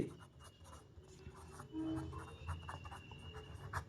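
Pen scratching numbers onto paper while a maths problem is worked out, short strokes in quick, irregular bursts, close and quiet, with no talk.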